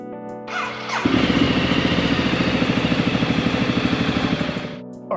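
A Ducati Multistrada motorcycle engine starts in a garage, with a brief cranking whir before catching, then settles into a loud, steady, lumpy idle with a rhythmic pulsing beat, warming the oil before cutting off near the end.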